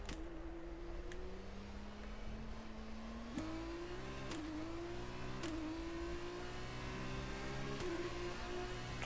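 Simulated F1 2021 race car engine in a video game, revving in a steady rising whine through repeated quick upshifts, each gear change a sharp break in pitch, loud and continuous with no talk.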